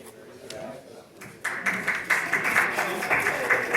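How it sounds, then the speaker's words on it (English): A small audience at a Rotary club meeting applauds a called name, the modest clapping rising after a quieter start and continuing steadily, with someone speaking over it. "Get less and less clap because we have less people in the audience."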